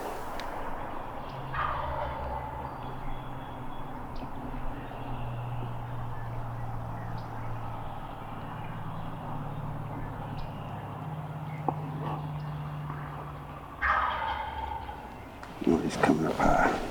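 A wild turkey gobbler calls from a distance outdoors, with faint gobbling and rustling over a low steady background, and louder bursts of nearby noise near the end.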